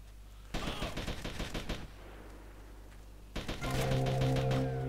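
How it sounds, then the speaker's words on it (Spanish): Bursts of gunfire in GTA Vice City Remastered: a loud rapid volley of shots, a pause, then another volley under a sustained tonal game sound. "Están disparándole."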